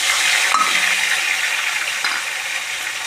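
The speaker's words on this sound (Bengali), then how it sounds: "এবার আমি আদা রসুন বাটার পেস্টটা দিয়ে দিলাম," Ginger-garlic paste frying in mustard oil with cumin seeds and bay leaves, a steady close sizzling hiss for egg curry, with a couple of faint utensil clicks and no talking.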